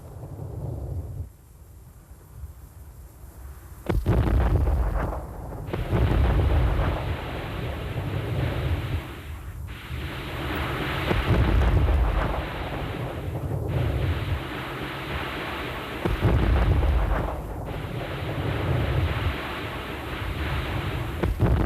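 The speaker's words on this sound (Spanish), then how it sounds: "Los cohetes de 15 centímetros cuando se disparaban producían un zumbido aterrador" 15 cm rockets fire in a rapid series of loud, rushing roars, each blast swelling and fading into the next, harsh and buzzing throughout.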